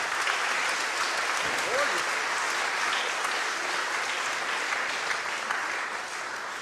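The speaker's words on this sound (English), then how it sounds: "give him a huge round of applause." A concert-hall audience at a classical Christmas evening applauds, dense sustained clapping that fills the room, loud and even, easing slightly toward the end with a voice briefly heard early on.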